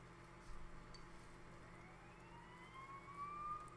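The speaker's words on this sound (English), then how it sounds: "You hear sirens nearby." Sirens wailing nearby in the video game Persona 4 Golden, a faint rising and falling tone sweeping over a steady low background hum.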